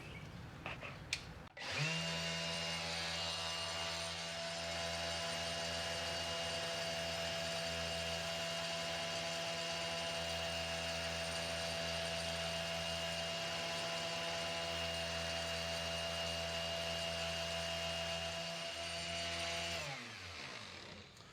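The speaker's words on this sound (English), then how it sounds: "I just have my portable sander here hooked up in a vise. I'm gonna go ahead and try and smooth down the edges on this here." A portable sander clamped in a vise smooths the edges of a patch on a 1448 Lowe jon boat. It runs as a loud, steady motor whine that starts abruptly, holds for about eighteen seconds, then winds down.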